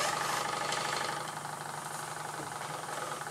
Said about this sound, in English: She is a smooth running old engine.